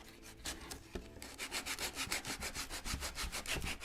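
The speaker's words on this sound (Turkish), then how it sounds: "Ben kağıdı zımparalıyorum" Steady back-and-forth rasping of sandpaper rubbed by hand on paper while making wooden wall art, close and rhythmic, about five strokes per second after a slower start.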